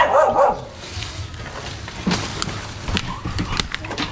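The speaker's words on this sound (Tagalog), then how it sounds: "Tsaka may aso." A dog barks a few times at close range, sharp and scattered, with short whimpering sounds between the barks and brief talk around them.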